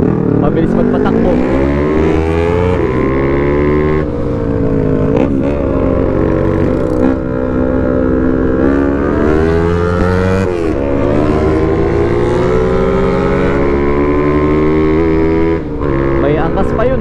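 A Suzuki Raider motorcycle crossing a river, its engine droning loudly and close, with repeated rising and falling revs as the throttle works through the water, sustained over the whole stretch.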